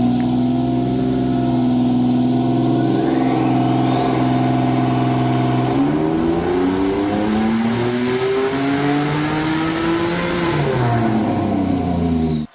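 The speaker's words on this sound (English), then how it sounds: "what I'm going to show you next is the car on the dyno making the 520 horsepower" A turbocharged VQ37HR-powered Nissan Patrol drift build pulls hard on a dyno, its loud engine climbing steadily in pitch with a rising turbo whine, then shifting and continuing to rev before easing off, with no talking.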